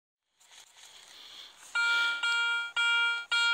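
Metal detector signalling a new target during a treasure hunt: a soft rustle, then a series of four loud, clear electronic tones in quick succession, each sustained briefly before cutting off.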